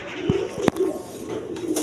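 Satin pigeons coo softly and close by, with a couple of sharp knocks and some background noise.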